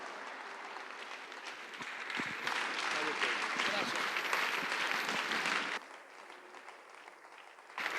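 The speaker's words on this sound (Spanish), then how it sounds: "dale un fuerte aplauso a nuestro Dios." Church congregation applauding in a large hall, a steady wash of clapping that swells for several seconds with voices mixed in, then drops off abruptly near the end.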